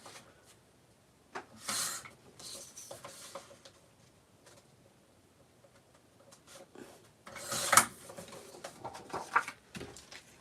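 Paper trimmed for a scrapbook, a few brief scraping and cutting strokes close by with quiet pauses between them.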